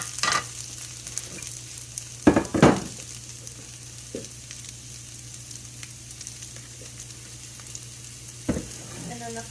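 Beef, vegetables and thinly cut Brussels sprouts sizzle in an oiled pan, a continuous close frying hiss broken by a few louder scraping stirs, with no talking.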